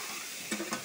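Potatoes tossed into a pan of hot oil for frying, a soft low sizzle broken by two quick stirring scrapes near the end, close and fairly quiet.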